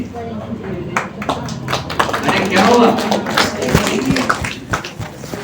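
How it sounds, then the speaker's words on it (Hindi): Scattered audience clapping in a lecture hall, uneven handclaps mixed with taps and thuds, heard under someone talking throughout. "ये कोई ताली बजा रहे हैं, कोई ये सबने नहीं बजाई ताली"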